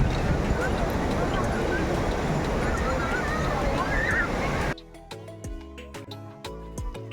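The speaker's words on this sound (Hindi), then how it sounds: "बीच में बैठकर लहरों को आते देखना और उनकी आवाज़ को सुनना अलग ही मज़ा है।" Ocean surf on the beach at Puri gives a continuous, close, loud rushing roar, then cuts off, and quieter tonal sounds follow.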